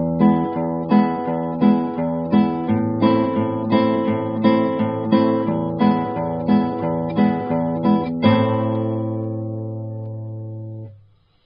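A guitar plays the Trinity Grade 3 piece Marchinha de Carnaval, a steady series of plucked notes and chords in a marching rhythm, ending on a held chord that rings out and fades, heard close and alone.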